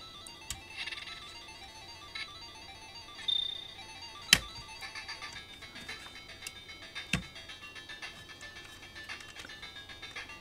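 A Sega Game Gear handheld console under repair is powered on and plays faint, tinny electronic game tones, with a few soft clicks and handling noises in a quiet room.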